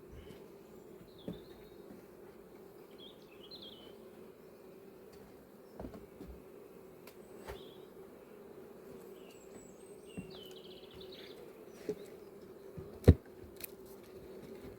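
Honeybees buzzing around apiary hive boxes during a hive visit, a faint steady low hum with occasional closer passing buzzes and a few sharp knocks or clicks.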